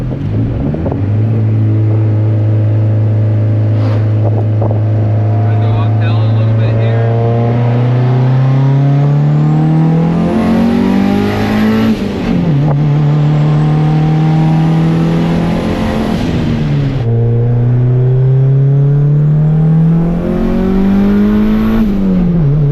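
Turbocharged, fully built Honda D-series single-cam engine driving and revving, loud and close, with rising pitch sweeps as it pulls through gears, brief drops at each shift, and a steady roar throughout with no talking.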